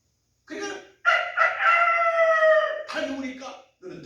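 During a Korean church sermon, a human voice imitates a rooster's crow with one long, drawn-out call and short clipped sounds before and after it, close and clear.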